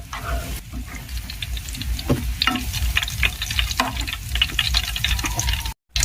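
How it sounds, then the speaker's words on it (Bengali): Steady crackling sizzle of pitha frying in hot oil, with scattered pops and a brief dropout near the end. "পিঠাগুলোকে আমি খুব বেশি লাল করে ভাজবো না, পিঠাগুলো ভাজা হয়ে গেছে।"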